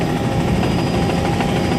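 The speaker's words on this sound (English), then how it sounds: "Being pursued by 2 choppers right now," Steady, loud rotor thrum of a helicopter flying close overhead, a continuous beating drone with no talk.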